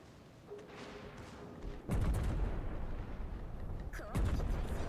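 Warship turret guns fire in World of Warships: Legends, two heavy booming salvos with a rumbling low tail that lingers between shots, loud and close over steady game background noise.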